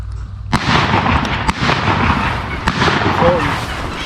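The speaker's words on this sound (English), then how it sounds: "They're gonna try and shoot them and scare them towards us." Shotgun shots fired while duck hunting at a pond, several sharp reports spaced irregularly over steady background noise, with people talking at the same time.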